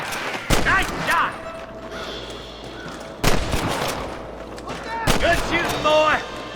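Gunfire during a camp shootout in Red Dead Redemption, a few loud, sharp single shots spaced several seconds apart, with game characters talking in between.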